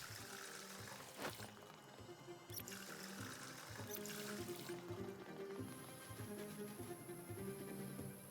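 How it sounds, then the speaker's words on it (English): Water pours steadily into a water bottle inside a house in the survival game Project Zomboid, a continuous trickling fill running the whole time over faint background ambience. "fill up my water bottle"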